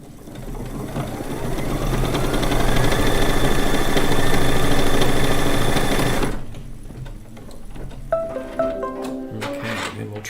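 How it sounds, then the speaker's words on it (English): A sewing machine runs a steady tack-down stitch across the center of a quilt block, humming continuously for about six seconds, then stopping and giving way to a few clicks and mechanical rattles. "now we'll just press the button, and we are going to do our tack down stitch for the center of the block"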